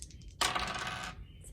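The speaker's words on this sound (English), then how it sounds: "roll 2 dice against it" Two dice clatter onto a table during a two-player board game, one sharp burst of rattling that lasts about a second against faint room noise.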